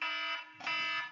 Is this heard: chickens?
no